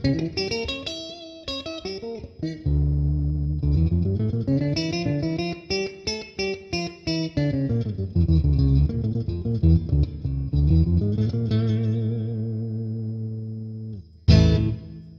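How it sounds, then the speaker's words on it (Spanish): Electric guitar played through the octaver effect of a Boss Katana 50 amplifier, with a run of sustained and plucked notes carrying a thick, doubled low tone, loud and close, with no talk. "nos vamos a un octavador"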